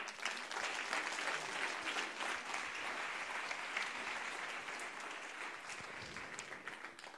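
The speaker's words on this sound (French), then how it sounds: "On peut les applaudir." An audience at a regional final of the Ma Thèse en 180 Secondes thesis-presentation contest applauds steadily, a dense wash of clapping that holds for several seconds before slowly thinning out, with no talking.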